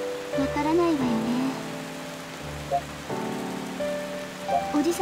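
Steady rain falling in the Dreamcast game Pandora no Yume, a soft continuous patter heard under background music with a voice speaking briefly.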